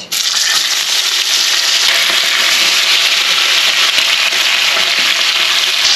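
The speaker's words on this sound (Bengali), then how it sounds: "তেল গরম হয়ে গেছে, কড়া থেকে ধোঁয়া বেরোচ্ছে। দিয়ে দিচ্ছি মাছ।" Whole fish slide into smoking-hot mustard oil in a kadai, a loud, dense, crackling sizzle that bursts up at once and holds steady and close.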